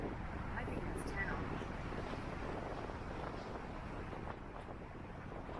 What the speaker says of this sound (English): Wow, the wind's blowing.